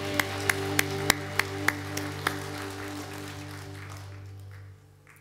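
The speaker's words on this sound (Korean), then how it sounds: "하나님께 영광의 박수로 함께 서로 축복하고 하나님께 영광을 돌리겠습니다." A church congregation claps during a Reformation Sunday service. About eight sharp, evenly timed claps sound over a sustained organ-like tone, then the claps stop and the tone fades away.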